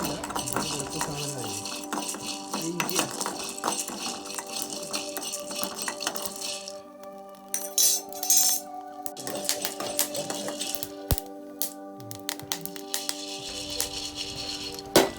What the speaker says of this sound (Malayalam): കുരുമുളക് നന്നായി ഇതേപോലെ വറുത്തെടുക്കുക.